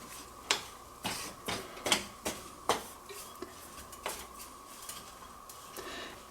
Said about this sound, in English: Let's just stir that in a little bit with it.